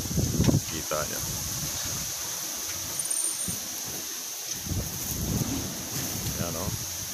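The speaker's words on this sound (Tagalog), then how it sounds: "Tunog ng hangin pa lang." Strong typhoon wind gusts through bamboo in Cavite, a rough, rushing roar buffeting the microphone with rustling bursts, while someone speaks intermittently over it.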